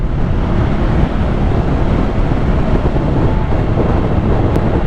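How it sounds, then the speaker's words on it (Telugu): Strong wind buffeting a microphone on a highway ride toward Konaseema from Hyderabad, a dense, steady roar with low gusty rumble lasting throughout, loud and unbroken with no talk. "విండ్ బ్లాస్ట్ అయితే గట్టి కొడుతుంది."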